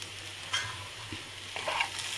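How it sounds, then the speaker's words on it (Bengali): Sweet corn frying in a pan for a Mexican-style salsa, a soft quiet sizzle broken by a few brief stirring scrapes, no talking. "বেশ কিছুক্ষণ এটাকে আমি ভাজা ভাজা করে নিয়েছি।"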